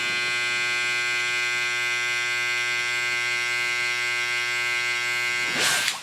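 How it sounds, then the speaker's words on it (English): Electric hair trimmer buzzing steadily close up during a buzz cut, a strong even hum with a clear harmonic whine that runs unbroken before cutting off in a short burst at the end. "now we go in with the trimmer, same trimmer we went in with before"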